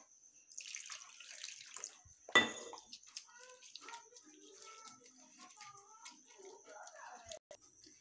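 Salted bitter gourd pieces rinsed in clean water in a bowl, with splashing and sloshing, one sharp clatter of a vessel midway and light clinks of dishes through the rest.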